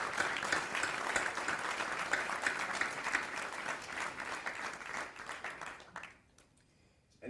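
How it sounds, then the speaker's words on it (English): A crowd at a Michigan National Guard Pass in Review ceremony at Camp Grayling claps in a steady round of applause that fades out near the end. "So please join me in a round of applause for her service."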